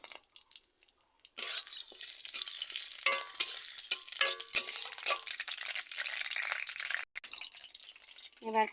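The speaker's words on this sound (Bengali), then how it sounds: "বন্ধুরা দুটো তেজপাতা আর কটা শুকনো লঙ্কার তেলের মধ্যে দিয়ে দিলাম" Bay leaves and dried red chillies hit hot oil in a pan, bursting into a loud, steady sizzle with crackling spits that carries on for several seconds after a brief quiet start.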